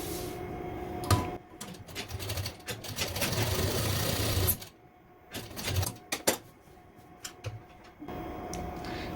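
Sewing machine stitching suit fabric in bursts, a close, steady whirring run of stitches that stops and starts several times with short pauses and small handling clicks between passes.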